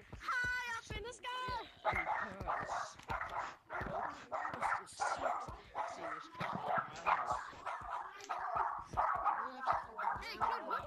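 A dog barks and yips in a VR video game, repeated rapid barks with whimpering tones layered under a voice talking excitedly throughout.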